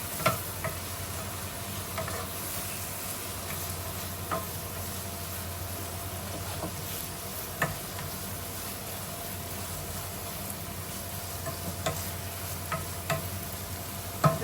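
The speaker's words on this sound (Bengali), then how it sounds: "এখন আমি কচুটা একবারই দিয়ে দিলাম। একটু ভাজা ভাজা করবো আমি এটা" Pieces of taro (kochu) fry in a pan with a soft continuous sizzle, broken now and then by faint scraping clicks as they are stirred. No one speaks.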